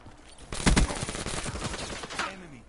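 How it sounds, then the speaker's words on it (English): Shotgun blasts in a multiplayer shooter video game: a loud cluster of heavy booms, then rapid lighter gunfire and clatter running through the rest, close and dense. "They're using shotgun. Alright, they want to use shotguns like that."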